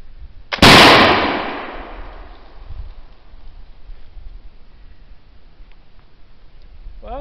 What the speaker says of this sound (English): I'm just going to go ahead and fire a single projectile offhand. I haven't shot this musket or Fowler offhand